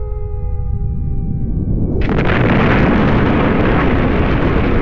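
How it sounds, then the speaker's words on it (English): A UK civil defence air raid siren wails loud and sustained over heavy rumbling noise, its pitched tones giving way to a broad roaring blast partway through. "Would you know what to do if you heard siren sound?"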